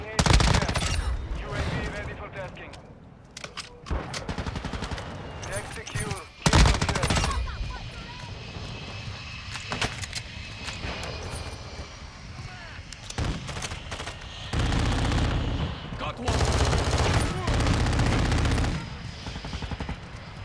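A full-auto Desert Eagle pistol in Modern Warfare 2 fires in repeated loud bursts of rapid shots separated by quieter gaps, spread across about twenty seconds.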